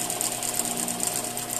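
A sewing machine stitches a tailored sleeve seam, a fast, steady mechanical whirring with a rapid regular needle rhythm, close and continuous with no talking.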